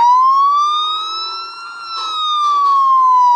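A loud wailing police siren in the video game Vehicle Simulator sweeps slowly up and down in pitch, close and clear, with faint background noise beneath it.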